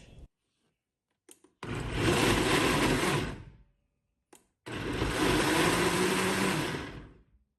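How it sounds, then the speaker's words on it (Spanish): A blender pulses salsa made with onion and garlic in two loud bursts of about two seconds each, whirring up and cutting off, with brief clicks between. "vamos a llevar a licuar, apagando y prendiendo para que sea nada más como martajada la salsa"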